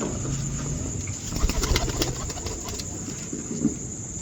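Domestic pigeons kept by a fancier in Pakistan, soft cooing and a few wing flutters mixed with a constant background hiss, fairly close.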